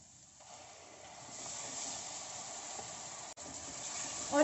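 Tomato puree frying with ground spices, Kashmiri red chili and turmeric for a dhaba-style mixed vegetable dish, giving a steady broadband hiss that builds slightly, with a brief break near the end and no talk.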